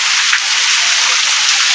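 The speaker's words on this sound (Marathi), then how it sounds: "फायनली पाऊस यायला सुरुवात झाली" First monsoon rain falls steadily in rural Konkan, a dense, even hiss of drops on surfaces, close and constant throughout with no voices.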